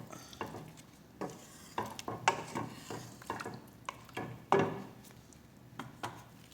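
A spoon stirs coconut milk in a pot for chicken wings, making repeated scraping and sloshing strokes at a steady rhythm, close and clear, with a soft sizzle beneath.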